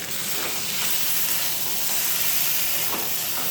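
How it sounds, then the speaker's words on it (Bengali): Paneer hits a pan of yam curry that has been fried down in spices, setting off a loud, steady sizzle and hiss that stays close and unbroken, with faint stirring scrapes and no voices. "ওলটা কষানো হয়ে গেছে, এবার পনিরটা ঢেলে দিলাম"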